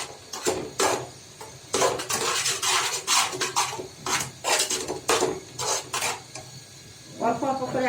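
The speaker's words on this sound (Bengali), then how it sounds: "আমি 500 গ্রাম দুধের মধ্যে খামিরটা করছি।" Milk-based dough for rose-shaped pitha is worked by hand in a bowl, giving repeated clattering and knocking bursts of contact against the dish in an uneven rhythm, close and fairly loud, with no talk.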